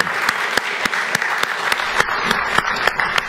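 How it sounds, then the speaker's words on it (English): A church congregation applauds singers after an Advent lessons and carols service, a steady wash of many hands clapping close and even, with no talk over it. "how about we just do one more round of applause for all of the singers"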